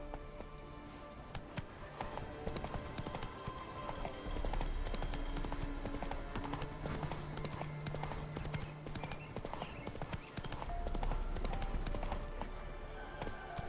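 Roach the horse gallops in The Witcher 3, hooves clip-clopping rapidly and steadily over ongoing game music and sound effects.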